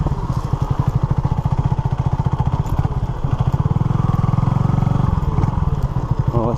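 A Honda CB250RS motorcycle on a flinty green lane, its single-cylinder engine thumping loud and close with a fast steady pulse, the note dipping and rising slightly as the rider works the throttle, no voices.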